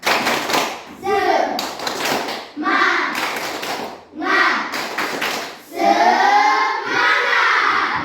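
A group claps the 'tepuk semangat' routine, rhythmic bursts of hand claps in patterned sets separated by short pauses. Chanted voices, including children, join between and over the clapping.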